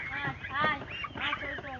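Several close, harsh goose honks come in quick succession around poultry being vaccinated, with faint human voices mixed in underneath.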